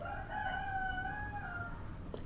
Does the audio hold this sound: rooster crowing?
yes